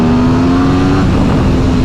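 2022 Aprilia Tuono V4 motorcycle engine at full throttle, a loud, close, continuous high-revving roar with a steady tonal whine and no speech.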